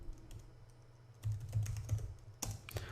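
Quick bursts of keystrokes on a computer keyboard, quiet and close, with a few clustered runs of tapping and a sharper flurry near the end.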